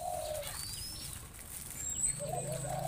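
A tame zebra dove (perkutut) coos softly in two short bursts near the start and end, close by, with a faint high chirp and light fluttering between.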